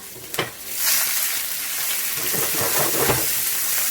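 Chopped onion and green chili sizzle and fry in hot oil, a sharp crackle at first settling into a steady close hiss with a few stirring scrapes.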